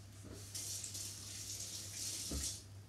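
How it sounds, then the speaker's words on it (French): Running tap water splashes over fingers being rinsed in a kitchen sink during apple confit preparation, a steady moderate gush with a low hum beneath and a brief clunk near the end. "je me rince juste les doigts."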